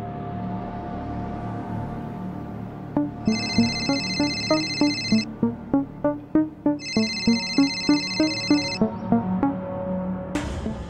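A phone ringtone in a Marathi TV drama scene plays a quick repeating electronic melody in two long bursts, loud and clear over a low room hum, ending with a sharp click.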